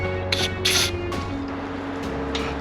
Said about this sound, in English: I decided it would be a good idea just to use some cleaner and a tap just to clean the threads